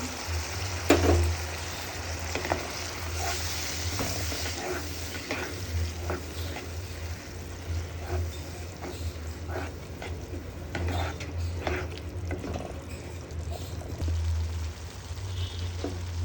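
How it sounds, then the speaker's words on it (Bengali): Water from boiled mutton is poured into a pan of frying chilli powder and spices for mutton kosha, setting off a steady loud sizzle with stirring scrapes throughout. "কিছুটা জল আমি এখানে সেই জলটা ইউজ করছি যেটাতে মাংসটা সেদ্ধ করেছিলাম"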